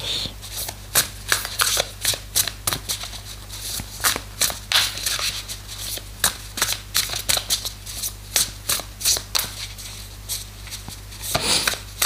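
A deck of oracle cards is shuffled over and over, with crisp riffling bursts and slaps repeating at an uneven pace close to the mic, a steady low hum beneath, no voices.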